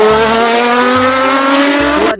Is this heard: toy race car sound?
yes